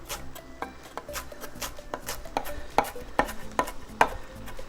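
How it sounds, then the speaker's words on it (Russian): Knife finely chopping fresh cilantro and parsley on a cutting board, a steady series of crisp close taps and board knocks in an even rhythm. "Ну и все, и мелко нарезаем."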